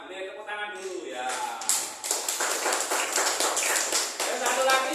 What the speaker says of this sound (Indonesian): Ya, boleh tepuk tangan dulu ya.